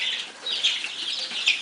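Baby chicks in a crowded pen give off a busy stream of high, soft peeping and clucking, with scattered brief flutters, continuous and fairly close for under two seconds.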